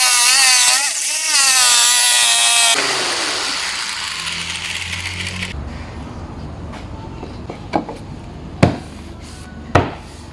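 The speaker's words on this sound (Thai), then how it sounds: "เราจะใช้จิ๊กซอเลื่อยให้ทะลุลงไปนะครับ" Loud jigsaw whines and buzzes cutting through wood for a circular saw table top, cuts out, then a quieter motor hum continues with a few sharp knocks and taps near the end.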